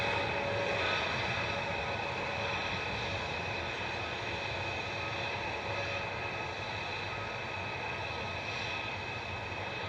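A TUI Boeing 737-800 jet airliner bound for Girona gives off a steady broadband jet roar that holds loud and even throughout, with no voices.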